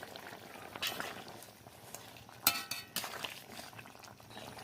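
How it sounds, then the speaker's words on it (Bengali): Water poured into a pot of fish curry with potato and banana, splashing and bubbling in uneven bursts with a few sharp clinks of utensil against the pot, fairly quiet and close. "এবার জল ঢেলে দেবো।"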